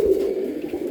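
Pigeons coo in a loft, a low throaty rolling call repeated close up and fairly loud, with soft fluttering rustle behind and no voices.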